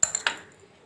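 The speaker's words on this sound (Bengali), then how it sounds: "এবার ডিমটাকে গুলে নিচ্ছি।" A utensil clinks against a bowl while eggs are beaten, three quick, light metallic taps followed by a fading ring, close but faint.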